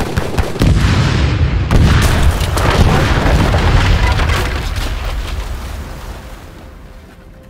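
The USS Philadelphia bursts apart in an Age of Empires battle with a loud, sustained roar of explosion, crackling and splintering wood that starts with a heavy blast and slowly fades over several seconds, with no voices.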